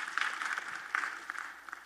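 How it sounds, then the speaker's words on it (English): Applause from a church recital audience, a short burst of scattered clapping at moderate distance, fairly faint and uneven. "give a round of applause for Samuel K."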